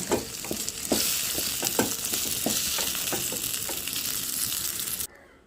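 Onions, tomatoes and ginger fry in a pan with a steady bright sizzle, broken by regular stirring scrapes, before the sound cuts off abruptly.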